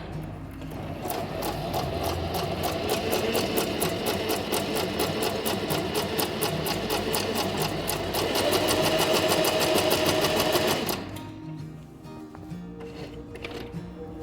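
A Buona Design Venecia sewing machine runs a long stitch at its longest setting, with a fast, even mechanical clatter that gets a little louder and quicker near the end. It then stops abruptly, leaving a quiet hum.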